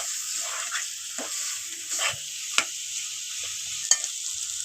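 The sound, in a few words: stirring chicken curry in a pot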